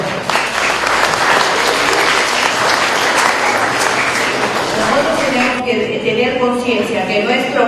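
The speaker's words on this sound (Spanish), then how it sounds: "Un aplauso, por favor." An audience at a congresswoman's public visit in the city of Caraz gives loud, sustained applause, a dense continuous clatter of many hands, with a voice speaking over it.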